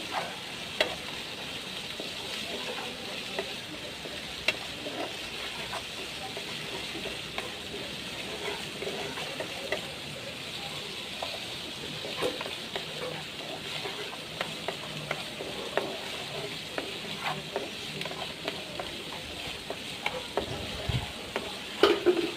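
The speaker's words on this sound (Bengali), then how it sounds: "সবগুলো ভালো করে নাড়ে নিতেছি।" Dried fish (shutki) fries in a pan while being stirred: a steady close sizzle runs throughout, broken by frequent light scrapes and clicks of the spoon, with no speech.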